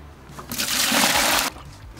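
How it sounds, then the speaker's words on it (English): Cold water gushes and splashes in a single short burst lasting about a second, loud and close, with quiet before and after. "That's cold water."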